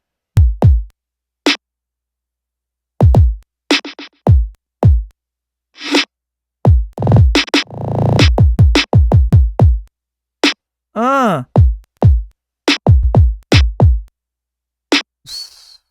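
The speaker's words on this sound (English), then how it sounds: "Listen to how dramatic this kick is, doing all sorts of cool stuff." Punchy, dramatic kick drum hits in a future K-pop R&B track, sounding as sparse loud booms in a syncopated pattern with gaps of silence and occasional pitched synth accents.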